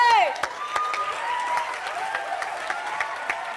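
Stand-up comedy audience applauds loudly in a full hall, a dense wash of clapping mixed with scattered cheers and faint voices that stays steady throughout.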